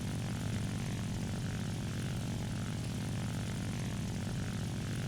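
A propeller aircraft engine in War Thunder on PS4 drones steadily at reduced throttle, a continuous, loud, even hum with no talk over it.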